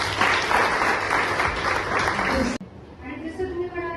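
An audience at a school parenting workshop applauds the fathers present, loud sustained clapping that cuts off abruptly, followed by a voice starting to speak.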